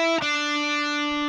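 An overdriven electric guitar from a solo, picked once and left to ring as one bright, distorted sustained note, loud and alone with no other instruments.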